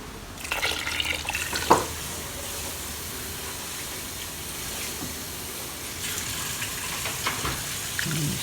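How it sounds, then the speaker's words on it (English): Water pours and splashes into a pot of oxtail stew with a sizzling, bubbling hiss, followed by continued simmering sounds. "2 cups more of water"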